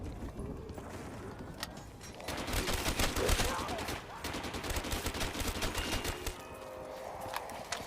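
Rapid, continuous bursts of RPK light machine gun fire in Black Ops 3 zombies on the Nacht map at a high round, loud and sustained across the whole stretch with short gaps between volleys.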